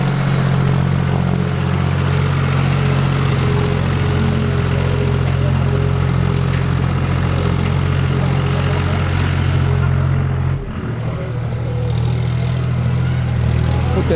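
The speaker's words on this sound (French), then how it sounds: "Donc c'est le ramassage scolaire népalais." A Nepali school bus engine idling with a steady low rumble, loud and continuous, dipping briefly near the end before settling back.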